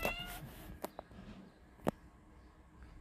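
A cat in the video game Dark Riddle gives a few short meows, one loudest near the middle, over quiet game background.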